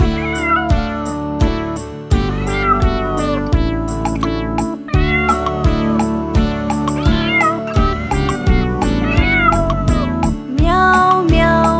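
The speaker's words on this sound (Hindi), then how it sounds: "बिल्ली करती म्याऊ म्याऊ" Cartoon cat meows from a Hindi nursery rhyme, repeated in a steady sung rhythm over bright music, loud and continuous throughout.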